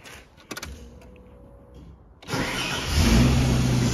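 A Ford ED Falcon cranks briefly and fires up, then settles into a steady, close idle after a quiet few seconds.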